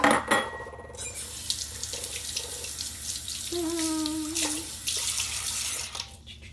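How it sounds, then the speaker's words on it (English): Water runs from a kitchen tap as something is rinsed during pear recipe prep, a steady close splash with a brief ringing tone as the flow fills a container, then the stream cuts off near the end. "Okay, so I'm gonna rinse that off."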